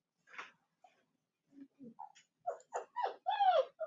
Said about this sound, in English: the puppies are starting to go insane.